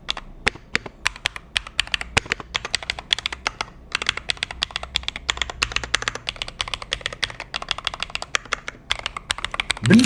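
Fast clicky typing on a magnetic-switch mechanical gaming keyboard, up close, a rapid uneven stream of sharp key presses with brief pauses, no voices.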